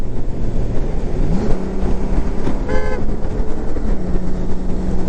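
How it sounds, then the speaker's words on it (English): A short horn toot from a Honda Gold Wing motorcycle cuts briefly through steady road and engine noise while riding toward a highway off ramp; a single honk lasting under a second, with no voices. "that was me honking in case you were wondering"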